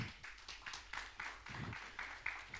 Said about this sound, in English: could I have another round of applause for Kay?